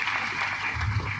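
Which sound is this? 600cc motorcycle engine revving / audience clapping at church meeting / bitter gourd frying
audience clapping at church meeting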